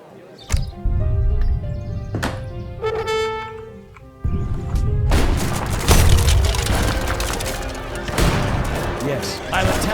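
Cannon fire in the real-time strategy game Age of Empires 3, several booming shots and bursts among battle effects, with someone talking over the game sounds.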